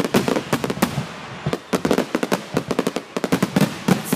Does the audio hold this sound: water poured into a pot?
no